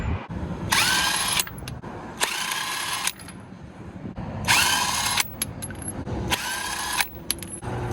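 A power tool whines in four loud, separate bursts with pauses between, zipping lug nuts off a car wheel during a brake pad and rotor replacement.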